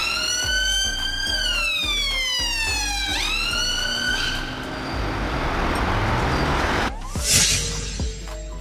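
Ambulance siren wailing loud and close, its pitch sweeping up and down over a rumbling vehicle engine, with a brief harsher burst near the end.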